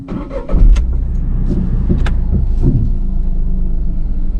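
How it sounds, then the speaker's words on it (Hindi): A car being driven slowly over a speed breaker during a driving lesson, its engine giving a loud, close, steady rumble that swells slightly as the clutch is released and throttle applied. "ब्रेक को दबा रखो, पहले क्लच छोड़ो। क्लच और थोड़ा छूटेगा, रेस दो, रेस दो, रेस दो।"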